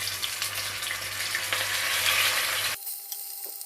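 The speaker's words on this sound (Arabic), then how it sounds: "هبدا بقى احط العكاوي بتاعتي عشان تتحمر" Oxtail pieces fry in oil and ghee, a steady close hiss and crackle for nearly three seconds before it cuts off abruptly, leaving only faint kitchen noise.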